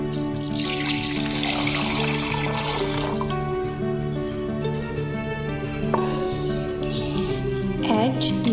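Water poured into a cup or grinder jar while preparing a lemon, beetroot and carrot drink, a steady splashing stream near the microphone lasting several seconds, with tonal background music underneath.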